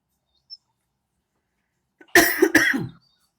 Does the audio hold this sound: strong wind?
no